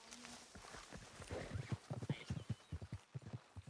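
Horse hooves clip-clopping in a ranch roleplay video game, a quick run of close, distinct hoof strikes with a brief whinny-like tone at the start, fairly faint overall.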